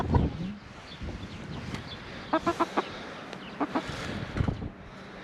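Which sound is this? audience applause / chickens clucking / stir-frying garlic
chickens clucking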